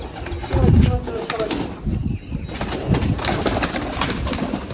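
Pigeons flutter and coo as they are let out, wings flapping in bursts close by, with people talking over the commotion.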